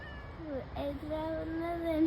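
A cat meows a few times in a village, drawn-out tonal cries close by, with some background voices.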